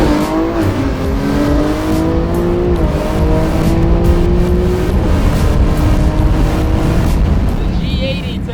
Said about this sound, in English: Let's get a roll race in and see which car wins.